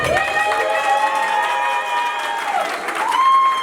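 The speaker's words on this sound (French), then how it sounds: "sous vos applaudissements, s'il vous plaît" Applause and cheering from guests at a civil wedding in a town hall, steady and fairly loud for the whole stretch, with sustained tonal sounds running through the crowd noise.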